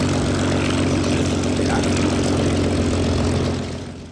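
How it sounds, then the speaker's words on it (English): A Yak-3 Soviet World War II single-seat propeller fighter drones loudly and steadily, a thick continuous engine and airscrew roar that holds level before easing slightly at the end. "Yak-3 served as a Soviet fighter aircraft during World War II"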